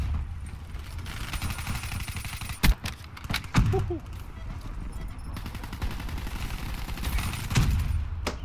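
Steady gunfire and mechanical clatter in Call of Duty: Black Ops 3 multiplayer, with a few sharper, louder shots standing out against a constant din of shooting. A voice can be heard in places.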